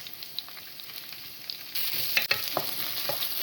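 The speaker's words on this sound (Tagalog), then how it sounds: "nagprito na tayo ng sibuyas" Onions frying in a pan, a close hissing sizzle with occasional crackles and stirring scrapes that grows suddenly louder and fuller partway through, with no voices.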